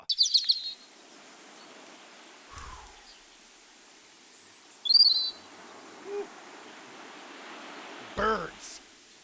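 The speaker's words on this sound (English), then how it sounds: "Birds." Scattered bird calls: a short burst of high chirps at the start, then a few isolated faint chirps and tweets spread over the rest, thin and distant against a steady low background hiss.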